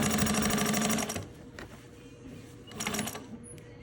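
A Juki 1541s sewing machine stitches quilting cotton with fused fleece backing, running in a loud, fast, rhythmic burst for about a second, then stopping and restarting briefly near the end amid quiet handling.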